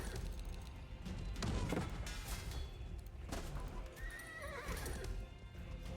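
Horses neigh and whinny repeatedly over clip-clopping galloping hooves in the Age of Empires strategy game, with cavalry units moving; loud and continuous, no talking.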